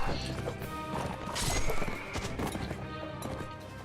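Horse galloping in the Mount and Blade Warband video game, rapid hoofbeats with a whinny amid a busy battle mix, loud and close.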